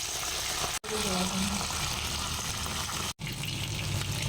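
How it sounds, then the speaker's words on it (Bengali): Pabda fish pieces frying in a pan, a steady, close hiss of hot oil sizzling throughout, broken by two brief drops in sound. "মাছগুলি ভালো করে ভেজে নেব।"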